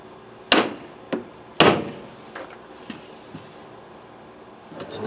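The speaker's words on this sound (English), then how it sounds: "put your screwdriver in there, supporting the carburetor, and I'm going to hit the end of this" Sharp metallic taps as the end of a screwdriver is struck to jar loose a screw on the carburetor of a 1986 Toyota Corolla 1.6-litre, two loud knocks followed by several fainter ones in a quiet room.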